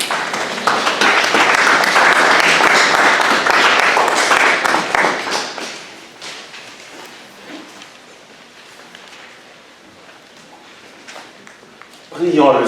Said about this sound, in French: de donner une bonne main d'applaudissement aux mamans présentes dans notre assemblée